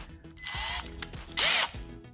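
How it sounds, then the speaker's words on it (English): A power drill bores into a car part on a 2004 Subaru WRX STI, two short whirring bursts of the motor up close, separated by clicks and small handling noises. "we're just gonna hit that with the drill"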